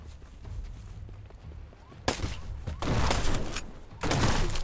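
Enemy rifle fire in the airship game Black Skylands, a few sharp cracking shots that land loud and close among quieter background thumps and faint ambience.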